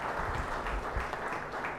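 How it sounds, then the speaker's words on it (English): Short, faint burst of audience clapping at an inauguration ceremony, soft and distant with a muffled, roomy quality. "I request the participant to give a big clap to Professor Tiwari"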